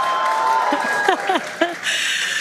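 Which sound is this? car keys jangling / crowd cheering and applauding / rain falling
crowd cheering and applauding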